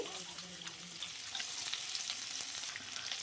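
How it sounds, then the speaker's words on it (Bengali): Chopped onion sizzles in a little oil in a wok, a dense, steady frying hiss with light stirring scrapes, close and continuous with no talk. "পেঁয়াজ কুচিটাকে একটু ভেজে নেবো হালকা করে।"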